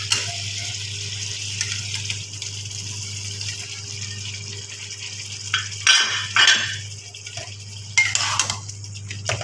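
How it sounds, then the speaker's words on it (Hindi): Steady sizzling from a hot pan with ginger-garlic paste, then louder bursts of frying and clinking as chicken drops in and is stirred, with a low hum underneath. "अब हम इसमें अपना चिकन ऐड करेंगे।"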